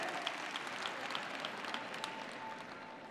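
Church congregation clapping during a sermon, a soft, continuous patter of many hands heard at a distance, fairly faint and even throughout.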